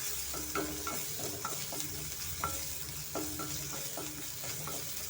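Green chilli, ginger and asafoetida frying in oil for amla chitranna, with a steady soft sizzle and repeated scraping stirs of a spoon against the pan at an even rhythm, close and alone.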